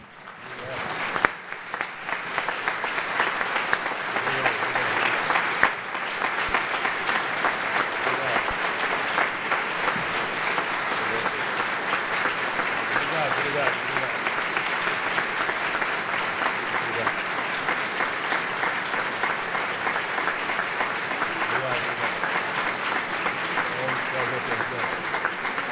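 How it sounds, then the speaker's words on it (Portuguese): Standing ovation for Pelé, with a large audience clapping in a long, dense, steady roar of applause that swells quickly and stays loud, with voices faintly mixed in. "que possam oferecer uma homenagem de pé, uma salva de palmas ao atleta do século, Edson Arantes do Nascimento, Pelé."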